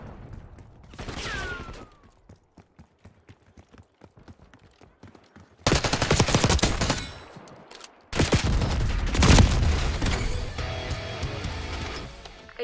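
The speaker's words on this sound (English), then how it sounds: "HVT is taking fire" Gunfire in Call of Duty: Black Ops 6: a single early shot, a stretch of sparse faint clicks and footsteps, then loud sustained bursts of automatic fire and explosions close by.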